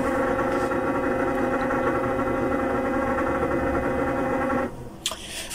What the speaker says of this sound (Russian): Аппарат работает по одной минуте.